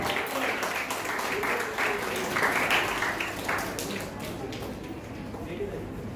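Steady applause from a school foundation day audience fills the space, a dense wash of clapping with a murmur of voices underneath, continuing without a break.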